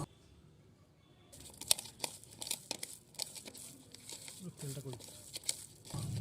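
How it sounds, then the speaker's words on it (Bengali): Hands knead a chicken chop mixture of minced chicken, soybean, ginger, garlic and cumin paste, chopped coriander, green chili and rice flour, giving close, irregular crinkly squishing and patting with a voice faintly in the background. "সব দেওয়া কমপ্লিট। এবারে ভালো করে মাখবো।"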